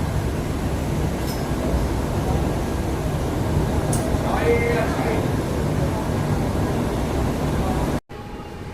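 The Subedarganj Dehradun Express rolls along near Moradabad Junction in heavy rain, a continuous rumbling roar of wheels and carriages with faint squeals, cutting off abruptly near the end.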